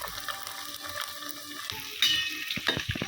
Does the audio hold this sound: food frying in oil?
yes